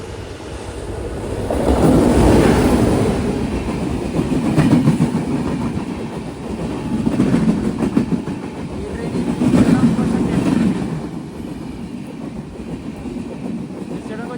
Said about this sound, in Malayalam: മുംബൈ CSTയിലേക്കുള്ള ജനശതാബ്ദി അതിപ്പോൾ ഇതുവഴി കടന്നു പോകും